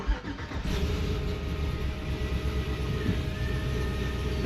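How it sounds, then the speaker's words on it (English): A Chevrolet Tahoe V8 engine catches and settles into a steady, slightly choppy idle from a cammed motor, heard up close and loud with a constant low rumble throughout. "Let's go back here and listen to this thing. Idles really smooth."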